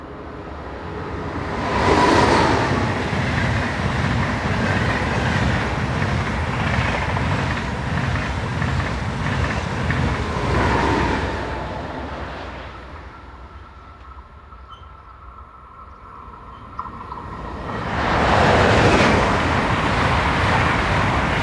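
ICE train set 401079 heading north on a busy German main line rushes past in a loud swelling roar, followed by a quieter lull and another approaching rush near the end.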